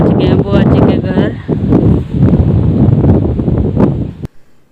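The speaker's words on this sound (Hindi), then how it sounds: "तेज हवा चल रही थी।" Strong wind gusting outdoors, a loud continuous roar buffeting the microphone for several seconds before cutting off abruptly near the end; voices talk underneath.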